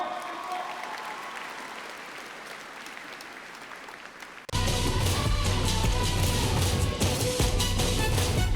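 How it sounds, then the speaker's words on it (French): Applause from the audience at a Japan Expo cosplay show, greeting cosplayers on stage. It starts as a faint wash and then jumps to a loud, dense, sustained roar of clapping from a large crowd. "On leur fait un tonnerre d'applaudissements."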